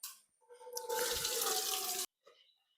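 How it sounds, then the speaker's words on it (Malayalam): Water runs from a pipe into a container in a loud, close, steady gush lasting over a second, then cuts off abruptly, leaving a faint trickle. "അത് നമുക്ക് വെള്ളം നിറച്ച് വെക്കാം."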